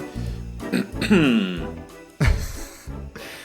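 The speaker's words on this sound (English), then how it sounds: "Clear your throat." A person clears their throat with a couple of rough, gravelly rasps and short vocal sounds, close to the microphone.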